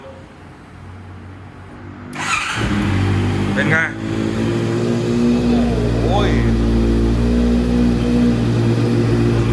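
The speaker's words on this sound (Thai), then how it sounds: "เดี๋ยวฟังเสียงเครื่องยนต์" A Honda CB650 motorcycle, converted to CBR650 styling with full carbon parts, starts up and settles into a loud, steady rumble with a few revs, while someone speaks briefly over it.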